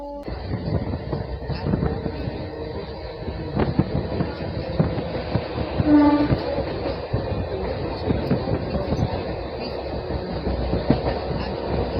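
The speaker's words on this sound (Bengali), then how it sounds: "সামনে থেকে আসছে two zero six zero five চিন্দুর superfast express যেটা হবে চেন্নাই এগমোর" A superfast express train bound for Chennai Egmore rumbles past on the tracks with rhythmic clickety-clack of wheels, heard from on board or trackside with moderate loudness and a brief squeal midway.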